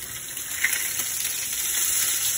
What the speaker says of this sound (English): now we will place the fish onto the pan,